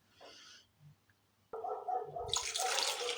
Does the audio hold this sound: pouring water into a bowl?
yes